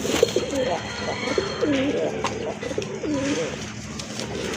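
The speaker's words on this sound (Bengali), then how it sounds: "এটা হচ্ছে রাজগোল্লা কবুতর" Rajgolla pigeons coo in soft, rolling low calls, repeated several times at close range amid a busy background and faint voices.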